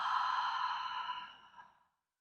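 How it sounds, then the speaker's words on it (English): A single deep exhale pushed out through the mouth during yoga breathing practice, a breathy, hazy sigh like fogging a mirror that starts strong and slowly fades over about two seconds, alone and close. "we're going to breathe in through our nose and then exhale through our mouth"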